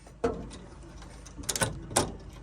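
A security deadlock bolt on a 2010 MK7 Ford Transit van is thrown, giving a sharp metallic clunk followed by a few ratcheting clicks and a final clack, close and fairly quiet.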